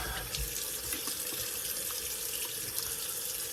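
A running tap rinses a razor or face during a wet shave, giving a steady, close, fairly loud gush of water into a sink with no break and no voices.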